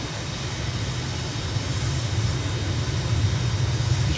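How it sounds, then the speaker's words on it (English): An aircraft engine in Microsoft Flight Simulator throttles up for takeoff on Cephalonia, Greece: a steady, loud, low drone that builds slightly over several seconds, with no voices. "Throttle up, wheel brake off."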